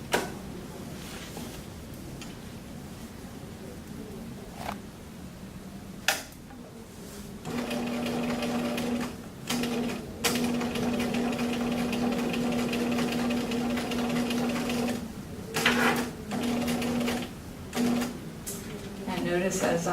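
A sewing machine top stitches around a shirt cuff in steady runs, stopping briefly at the corners as the presser foot is lifted and the fabric turned, with someone talking over it throughout.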